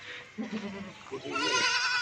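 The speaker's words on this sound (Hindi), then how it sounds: "खूबसूरत बकरी है।" A Makhi Cheeni goat bleats in wavering calls at close range, a shorter cry early and a longer, louder, quavering bleat toward the end.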